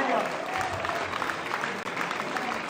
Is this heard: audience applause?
yes